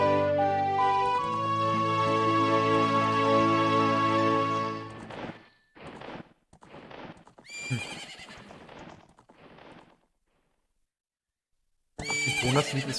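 A horse in Zelda: Ocarina of Time whinnies loudly over a melodic in-game tune, followed by several distinct neighs and hoof clops spaced across the clip with a silent gap before a final bright whinny.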